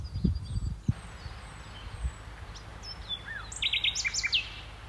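Wild birds call near a farm, giving thin whistled notes and a burst of quick chirps toward the end. Several dull knocks and rustles come early on, and the birdsong stays fairly faint against a quiet outdoor background.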